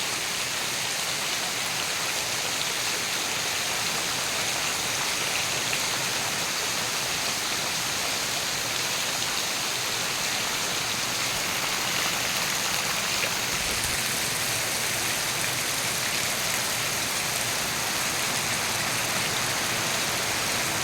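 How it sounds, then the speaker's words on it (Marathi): A dense, unbroken roar of heavy monsoon rain pouring off the eaves and splashing nearby in Mahabaleshwar, steady and loud for the whole stretch with no voices. "तर वळचणींवरनं पावसाची तीव्रता पण समजू शकते किती असेल ती, म्हणजे खूप जास्त पाऊस पडतो।"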